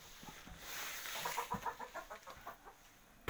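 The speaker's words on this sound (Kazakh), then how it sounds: "Мына менің тауық сарайым." Chickens cluck inside a chicken coop, a string of short rhythmic clucks building in the middle and continuing steadily at a moderate, slightly distant level, with no talking.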